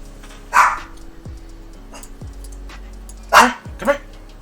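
A dog barking at the mail carrier, two separate bursts about three seconds apart, the second a doubled bark, fairly close and alone in a quiet room.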